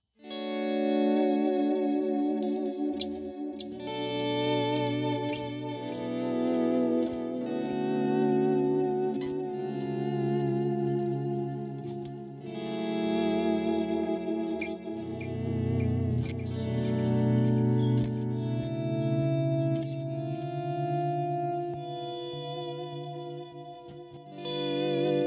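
Electric guitar played through a Line 6 M5 effects unit, with volume-swell notes that fade in and ring out, layered with delay and chorus-like shimmer. Sustained, chord-like tones rise and blend continuously for the full length, with no talking.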